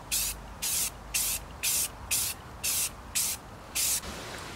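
Satin black spray paint from an aerosol coats motorcycle wheels during a YZ250 restoration, heard as eight short, even hissing bursts close by, each about a third of a second long, with brief quiet gaps between them.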